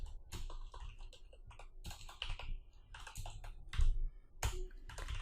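Code is typed on a computer keyboard, with close, crisp key clicks coming in quick irregular bursts and short pauses, heard alone.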